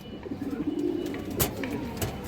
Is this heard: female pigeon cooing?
yes